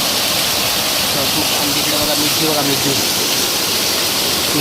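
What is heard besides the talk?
heavy rain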